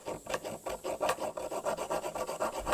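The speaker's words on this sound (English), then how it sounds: "Now we are going to sandpaper this and this and cut this so we have a base to place it." Sandpaper rubbing back and forth on a cast aluminium action-figure base, a steady rhythmic rasp of about a dozen close strokes with no talking.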